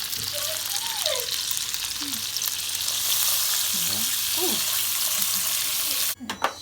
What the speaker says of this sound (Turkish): 2 yemek kaşığı tereyağımı ekledim.